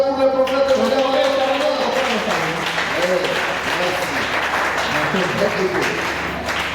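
Church congregation applauding loudly and steadily for a visiting prophet during a Pentecostal sermon, a dense wash of clapping that continues throughout, with a voice speaking briefly over it at the start.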